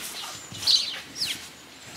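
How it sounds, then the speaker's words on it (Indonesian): Birds chirp at Halls Gap zoo in Australia, a few short bright tweets scattered over two seconds against quiet outdoor background, moderately close. "Ada burung-burung di sini."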